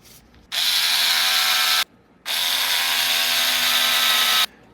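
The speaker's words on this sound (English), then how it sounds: "then we're going to take our screw gun, and of course being careful because we are going plastic to plastic" A cordless screw gun drives screws into a plastic gearbox on a Tekno EB48 2.2 1/8 buggy, with two steady high-pitched whirring runs of about one and two seconds, close by and separated by a short pause.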